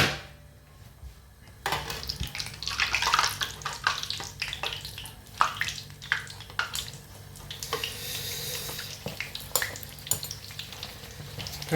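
Pizza fritta fries in a pan of hot oil, hissing and bubbling with sharp crackles and splashes as oil is spooned over it for basting; the sound starts quietly and then swells into a busy, close sizzle.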